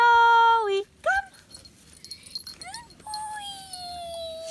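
A dog whimpers and whines in high, wavering, drawn-out tones at a home in Costa Rica. There are several cries, loud at first, then sliding whines over quiet background noise.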